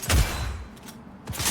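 Gunfire from Cyberpunk 2077, a burst of shots up front followed by a brief lull and then another cluster of reports, loud and close with no talking over it.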